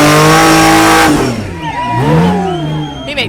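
An off-road vehicle on a hard Utah trail climbs a steep rock ledge, its engine revving loudly and close, the pitch sweeping up and down as it strains over the lip.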